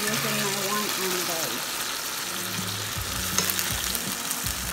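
Grace sausages and baked beans fry in a pan with a steady sizzling hiss while being stirred, and a voice speaks over the frying in the background.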